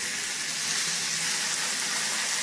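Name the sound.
meat searing and sizzling in a hot pan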